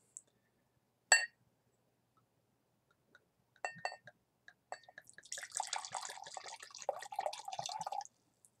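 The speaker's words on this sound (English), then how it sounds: "And we are going to elegantly pour." Linganore medieval mead wine is poured into a drinking glass: a couple of faint clinks and taps, then a few seconds of close, trickling liquid splashing that ends abruptly, quiet and without talk.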